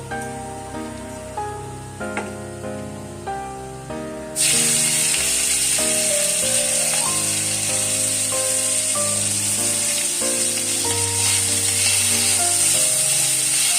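Prawns hit hot oil in a pan and burst into a loud, steady sizzle that fills the rest of the clip, after a few soft stirring taps over quiet background music.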